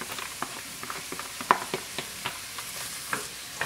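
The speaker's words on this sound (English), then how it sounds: "Stir that up a little bit." Carrots and celery sautéing in a pot over cooked onion for a chicken gumbo, with a quiet steady sizzle and scattered soft scraping taps of stirring throughout.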